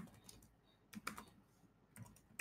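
Quiet keystrokes on a computer keyboard come in short clusters of clicks with brief pauses between them, close and soft against a near-silent room.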